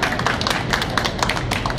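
Brief, scattered clapping from a small audience at a tango street show in Buenos Aires, quick uneven hand claps that are close and fairly loud, with no voices over them.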